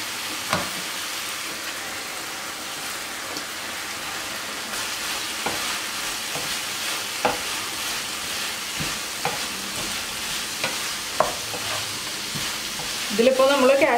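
Vegetables stir-fried in a sugar sauce for veg spring roll filling, a steady sizzle with scattered scrapes and clinks of a spoon in the pan, no talking.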